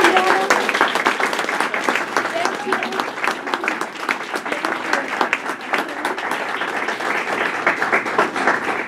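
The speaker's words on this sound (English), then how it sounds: "So a big round of applause." A crowd claps steadily for several seconds, a dense, continuous round of applause with a few voices faintly underneath.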